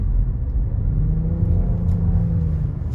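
A 2022 Nissan Rogue engine drones as the car accelerates, a steady low rumble with faint whir heard from inside the cabin, continuous over three seconds without talk.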